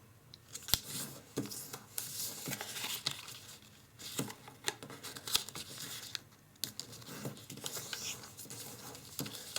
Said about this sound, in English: We're going to fold in a corner. We're going to flip over and bring in the sides.